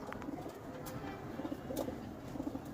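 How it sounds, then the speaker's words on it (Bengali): A male coloured fancy pigeon coos softly and repeatedly in low, throaty murmurs. The calls are faint but close, with a little background rustle and no speech. "আমি একটা কবুতর নিয়ে আজকে আপনাদের মাঝে আসছি"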